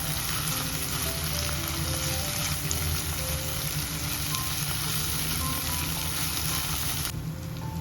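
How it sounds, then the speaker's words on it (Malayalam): Dried red chillies and a crushed spice mix sauté in a hot pan, giving a constant close sizzle and crackle that stops abruptly just before the end. "എല്ലാം കൂടെ നന്നായി ഒന്ന് വഴറ്റിയെടുക്കാം."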